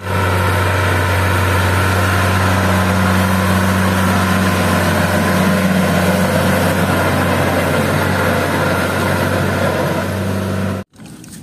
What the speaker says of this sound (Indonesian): Traktor pembajak sawah.